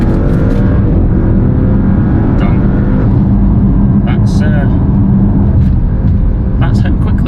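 An Audi RS6 with a resonator-delete exhaust accelerates hard, its engine drone loud and continuous throughout with rising pitch, recorded from inside the car with a person talking over it.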